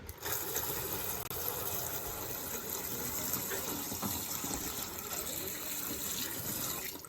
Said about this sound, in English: put water in it and show you that it'll hold water